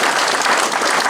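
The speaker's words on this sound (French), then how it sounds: "On peut là aussi les applaudir." Loud, dense applause fills the room at a municipal gathering honouring police forces, a continuous wash of clapping from many hands that holds strong throughout.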